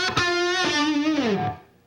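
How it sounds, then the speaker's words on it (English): A single sustained note from a PRS electric guitar on its treble single-coil pickup with the tone control rolled back, a warm, rounded tone that bends slightly and then fades away. No voices. "take that treble pickup and roll the tone control back when it's in the up position"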